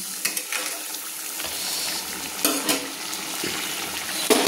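A pan of chang fish curry with slit green chillies bubbles and sizzles while a spoon stirs it, giving a soft continuous hiss broken by a few louder scraping knocks near the start, middle and end.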